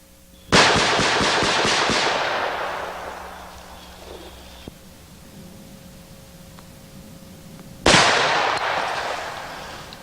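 Two loud, sharp gunshots from full-charge 460 Rowland loads, the first near the start and the second about seven seconds later, each with a long decaying echo and a quiet gap between.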